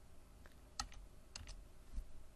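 Close, quiet computer keyboard typing of CSS code: a few sharp, separate key clicks spaced irregularly over a couple of seconds, with no voice.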